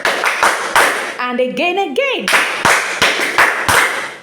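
Students in a language class break into a round of rhythmic hand clapping, sharp close claps in a steady beat that pause briefly while someone speaks, then resume just as loud.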